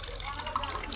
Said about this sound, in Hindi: बड़ा आसानी से पानी गिर भी जाता है, बिया एक भी नहीं जाएगा।